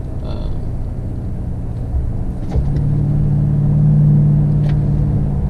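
Low, steady engine drone from a Toyota Tundra 5.7L V8 with a Flowmaster Super 44 exhaust cruising on a highway in tow mode, a deeper exhaust hum swelling midway and holding, no talk.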